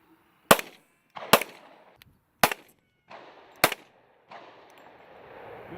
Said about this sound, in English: We will also be firing our duty handguns, Glock Model 22, 40 caliber pistol.